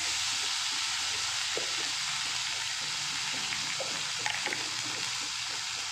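Spice paste of ground onion, garam masala and cumin frying in hot oil for a katla fish curry, a steady close sizzle and hiss throughout with a few faint stirring clicks, no talk.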